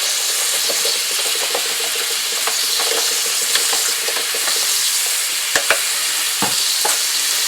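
Ground meat for a cottage pie browns in a hot pan, giving a steady close sizzle and frying hiss with scattered crackles and a few sharp stirring knocks, no voices.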